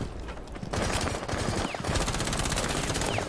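Rainbow Six Siege weapons hip-fired in rapid automatic bursts, a short gap, then a longer sustained stream of rattling shots, moderately loud in a busy mix.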